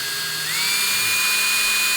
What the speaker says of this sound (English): the plan now is to drill 2 new holes that we're gonna use for the new mount